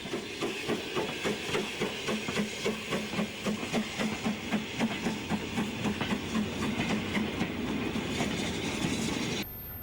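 A BR Standard Class 9F steam locomotive hauls a ballast train northwards on a British line, with loud, steady rhythmic clickety-clack of wheels over rail joints and a continuous rumble throughout.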